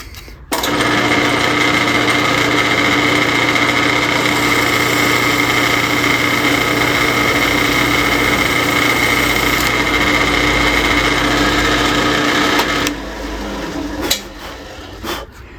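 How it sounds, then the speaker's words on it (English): A drill bores through a blank for a custom bass pickup, a loud steady high whine lasting about twelve seconds before stopping, followed by some brief clattering handling noise. "I'm just going to drill"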